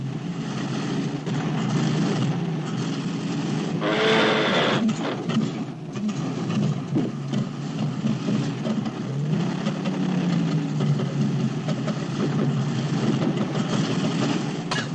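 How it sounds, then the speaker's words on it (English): A low, droning car engine hum, the engine in need of a tune-up, runs steadily throughout, loud and close, with a brief rattling burst partway through. "you hear that engine? Needs a tune-up."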